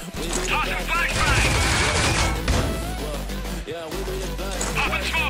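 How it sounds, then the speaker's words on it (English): Smoke grenade and flashbang thrown during a ranked match of a first-person shooter game, heard as a loud continuous wash of gunfire-like bursts, pops and crashes with a steady low rumble, with voices talking over the action throughout. "Throwing a smoke grenade. Tossing flashbang."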